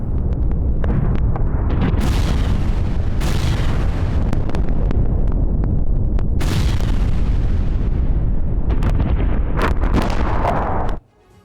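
Explosions from a Russian missile attack on a Ukrainian weapons factory, heard as a sustained loud roar with repeated booming bursts and blasts over about eleven seconds, ending abruptly.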